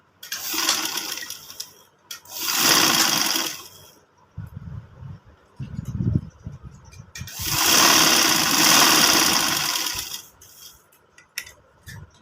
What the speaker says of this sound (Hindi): ऐसे ही दूसरी साइड पे भी हमने सिलाई लगानी है